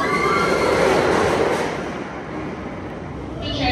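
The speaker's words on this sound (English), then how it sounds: "The train is rapidly approaching the station." The Montezuma's Revenge roller coaster train at Knott's Berry Farm rumbles and clatters steadily close by as it approaches the station, a broad rolling roar that eases slightly midway, with faint voices mixed underneath.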